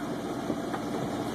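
Beta 38 hp sailboat engine with under 30 hours of use on San Diego bay, a steady low diesel drone heard from nearby, continuous and even.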